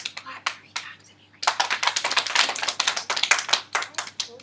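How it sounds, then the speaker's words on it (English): A classroom of students claps hands during a teacher's read-aloud lesson. A few sharp claps come first, then after a short pause a rapid, crowded burst of claps follows. "Clap once if you can hear me. Clap 3 times if you"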